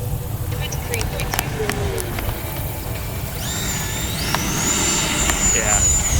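Model jet airplane engine on a windy, turbulent landing approach with minimal flaps, a steady turbine whine rising in pitch toward the end over constant low wind rumble, heard nearby and fairly loud.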